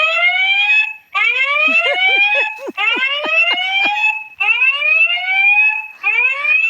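An electronic squirrel-scaring alarm device sounds close and loud, cycling through wailing, swooping siren tones with bursts of rapid chirping warbles, cutting out briefly between repeated phrases.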